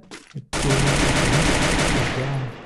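Rapid automatic gunfire from the Free Fire battle-royale game erupts after a brief muffled noise and then roars loud and sustained for about two seconds.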